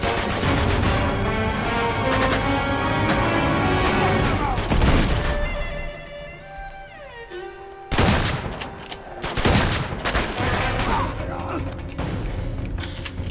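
Gunfire in Uncharted 2, loud rapid bursts of shots with crashing impacts and thuds, pausing briefly midway before resuming, with a voice speaking at times.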